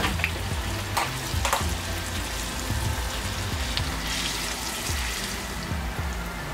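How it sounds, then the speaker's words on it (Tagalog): Firm tofu fries in a pan of oil, giving a steady close sizzle and crackle with a few brief louder pops and stirring clatter, no talking. "ipiprito lang natin siya both sides."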